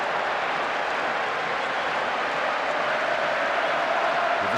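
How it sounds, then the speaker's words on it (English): Opposing supporters in a football video game crowd boo a goal with a dense, steady roar of massed voices that holds loud and unbroken throughout. "Opposing supporters are booing loudly at that goal."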